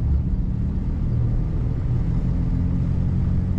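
A 1964 Lincoln Continental luxury sedan rounds a corner, its big engine giving a steady, low rumble close by, with smooth, even road noise and no voices.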